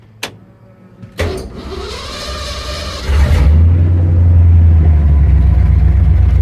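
A 1971 Ford F100 rat rod engine cranks to life after a brief click, then settles into a loud, steady close-up idle with a deep rumble and little revving.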